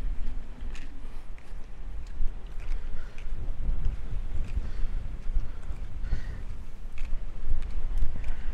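Strong gusty wind outdoors on a very windy August day, a loud low rumble buffeting the microphone continuously with surging gusts and no speech over it.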